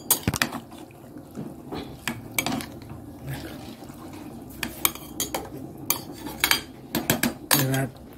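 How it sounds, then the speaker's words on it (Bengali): Cooked chickpea ghugni being put into a pressure cooker: close, repeated metallic clinks and scrapes of a spoon against the pot, irregular and bunched, with soft wet plops between them and no talk. "প্রেসারে দিয়ে দিলাম"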